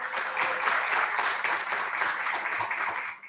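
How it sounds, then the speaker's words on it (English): Steady, full applause from an audience at a university President's List ceremony for the School of Creative Arts and Letters and Public Administration, with continuous dense clapping that holds evenly before fading at the very end. "Ask for one last round of applause for everyone."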